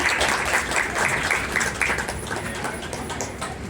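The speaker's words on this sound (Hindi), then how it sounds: "तालियों से जोरदार स्वागत किया जाए" Applause from guests at a community mass-wedding trust ceremony in India, a moderate, uneven patter of clapping hands with some distinct claps early on, fading gradually while background voices murmur.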